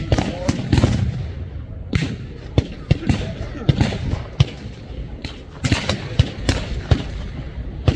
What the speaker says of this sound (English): It's almost like a non-stop firing buzz noise